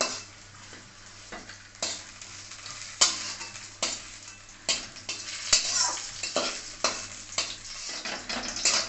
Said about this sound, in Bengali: লাল লাল করেই ভাজতে হবে। এটাকে আমি নাড়িয়ে নিচ্ছি।